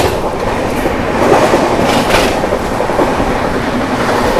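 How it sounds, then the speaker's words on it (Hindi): The 22221 Mumbai CSMT to Hazrat Nizamuddin Rajdhani Express runs at speed while overtaking the LTT Rajgir Janata Express, heard from inside as a loud, steady rumble with rhythmic clickety-clack of wheels on rail joints. "अब इसने रफ्तार बना लिया है, अब ये मारेगी जनता एक्सप्रेस को ओवरटेक,"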